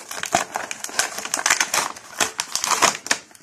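Cardboard box for a knockoff Avengers Thor figure being torn open by hand: close, continuous crinkling, scraping and tearing with rapid irregular snaps, no voices.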